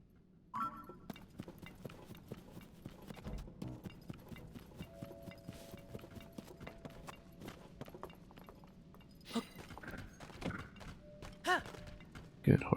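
Horse hooves clip-clopping as a horse is ridden in the video game Zelda: Tears of the Kingdom, a steady run of soft thuds under light game music, with a few sharper knocks near the end.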